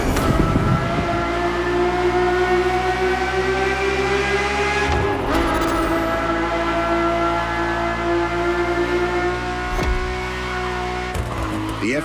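The normally aspirated Formula One-derived V12 of a Ferrari F50 in The Crew Motorfest drones at a steady, loud, sustained pitch, with a brief dip near the middle and another toward the end, under a faint voice.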